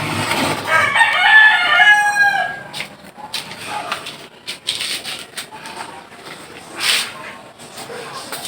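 Pet chickens with a rooster crowing loudly up close at feeding time, followed by clucking and scattered farmyard noise.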